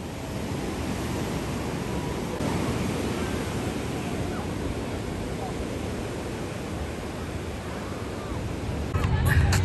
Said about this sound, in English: now we are here at Hermosa Beach because this was the closest beach to the store